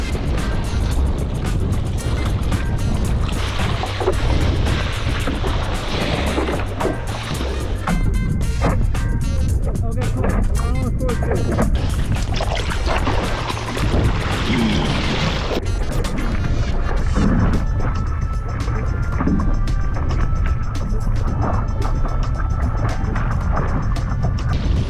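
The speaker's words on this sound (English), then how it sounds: "Oh, that's a good amount of wind, man." Strong wind buffets the microphone during wing foiling on the water, a loud, continuous roar and rumble with splashing that stays steady for the whole stretch.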